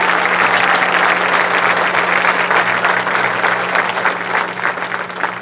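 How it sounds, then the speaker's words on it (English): A big room full of people claps loudly and steadily at the Defiance Band Spectacular, the applause holding strong throughout with no speech over it. "Please give them a big round of applause."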